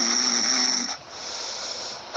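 A single snore in a Spanish children's story about a sleeping farm: one drawn-out, wheezy snore, followed by a softer hissing breath, heard alone with no talk.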